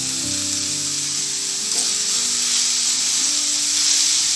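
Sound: cabbage and vegetables frying in a pan

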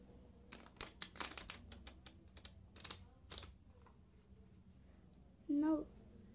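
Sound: shuffling playing cards

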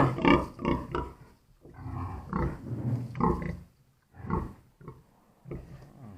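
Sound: pig grunting

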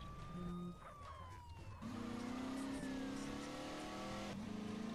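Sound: Dodge Charger car engine revving in GTA San Andreas video game

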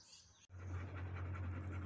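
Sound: dog panting in the heat

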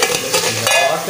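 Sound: beef frying in ghee in karahi

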